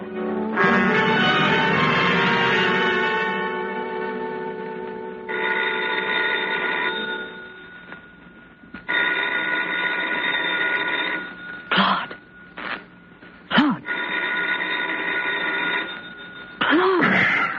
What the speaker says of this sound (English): What? The phone.